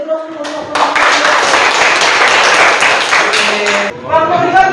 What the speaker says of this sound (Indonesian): Beri kita beri aplaus untuk